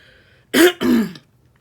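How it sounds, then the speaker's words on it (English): A person clears their throat twice in quick succession, close and clear, in an otherwise quiet room. "Sorry, had to clear my throat."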